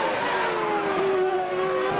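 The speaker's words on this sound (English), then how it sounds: "Here is the replay of De La Rosa coming down to the hairpin, nipping through on the inside of Heinz-Harald Frentzen's Jordan with its Mugen engine." Formula One cars from the 2000 Canadian Grand Prix, including a Jordan with a Mugen engine, scream through the hairpin with a loud, sustained high engine whine that rises in pitch as they pass close by.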